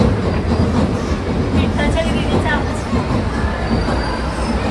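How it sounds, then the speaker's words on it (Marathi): A steady, loud rumble of a passing train with rattling and faint metallic squeals, continuous throughout and close by. "रेल्वेचा आवाज येतोय आता"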